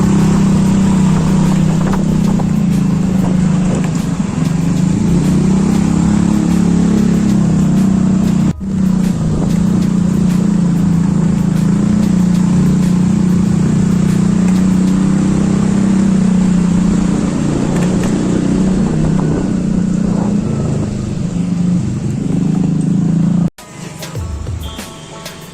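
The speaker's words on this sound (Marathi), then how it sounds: "या ट्युरचा सायलेन्सर खूप आवाज करत आहे." A motorcycle with a very loud exhaust silencer roars continuously at close range, a heavy steady drone with slight rises in pitch, briefly cutting out twice.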